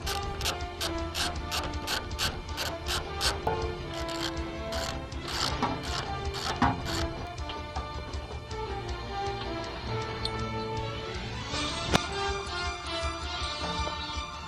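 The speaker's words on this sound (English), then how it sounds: "We're going to be using an 11/16 to remove the factory bolts." Ratchet wrench with an 11/16 socket loosening factory bolts on a Toyota Tundra for a bull bar install: rapid, crisp clicking bursts in quick succession early on, then scattered clicks, all over steady background music.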